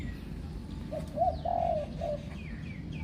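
A spotted dove gives a short series of soft, low coos, clear against steady background noise, with faint chirps from other birds at a distance.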